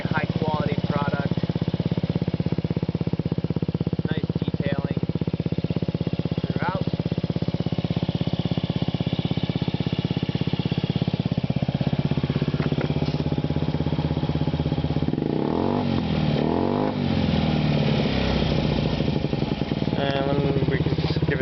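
A 2009 Honda Ruckus 50cc scooter fitted with a Yoshimura TRC aftermarket exhaust putters steadily on the road, a buzzing engine drone under heavy wind noise, with someone talking intermittently over it.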